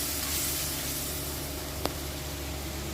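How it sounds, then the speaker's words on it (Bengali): Spice masala with salt and turmeric frying in a pan for a Bengali prawn curry gives a steady, close hiss and sizzle, with one brief sharp tick near the end. "পরিমাণ মতো নুন পরিমাণ মতো হলুদ দিই দিয়ে আমি মশলাটা ভালো করে কষে নেব"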